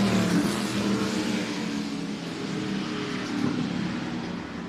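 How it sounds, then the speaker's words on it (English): A small-block race car engine with open headers roars at full throttle on a speed ring, a loud, steady throaty drone that swells slightly as it passes, with no voices. "Great sound. Full throat, small block with open headers."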